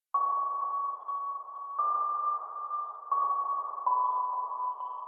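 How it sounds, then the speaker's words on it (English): Endless Sonar, an ambient texture synth patch from the ambience and effects category of Expand in Pro Tools, plays sustained ping-like tones that shift pitch every second or so, steady and alone. "It's called Endless Sonar, and it's under the ambience and effects category."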